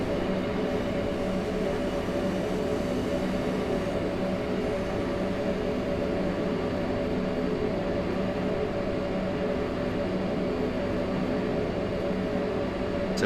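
A train runs under power on the Semmeringbahn in Train Simulator 2016, giving a continuous loud rumble and steady drone that hold even and unbroken throughout, with no voices.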